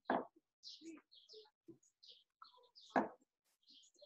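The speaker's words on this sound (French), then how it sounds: "On écoute les oiseaux." Birds chirp and sing in short, scattered tweets outdoors, fairly faint and intermittent, while a few soft voice sounds and small noises break in between.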